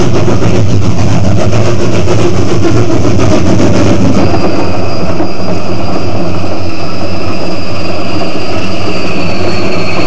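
A steam-era narrow gauge passenger train, the San Juan, pulling out westbound for Durango in Colorado, a loud continuous rumble of engine and rolling wagons with wheel squeal and a sustained high tone joining partway through.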